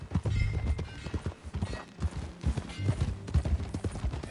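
Horse hooves clip-clop steadily in Red Dead Redemption 2, a brisk repeating rhythm of close, loud hoofbeats on the ground, carrying through the whole stretch with no talk over them.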